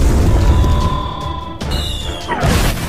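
Animated explosions as a space monster fires at dinosaurs in a cartoon: loud, rumbling booms with sudden bursts and sweeping whistling tones layered over a heavy low roar.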